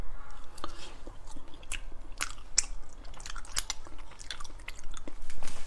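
Close, crisp crunches of ice being bitten and chewed, repeated in an uneven rhythm with sharp cracks and wet mouth sounds, without speech.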